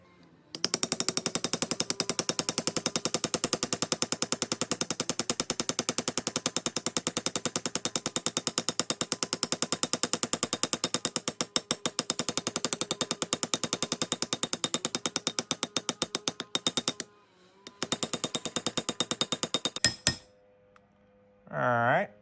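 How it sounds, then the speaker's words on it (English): A metal hammer strikes the end of a silver alloy piece to flatten it, a rapid, dense run of close ringing blows, sped up, that briefly pauses near the end before a final stop. "I'm now going to hammer out the end of this so I have a nice flat area to work."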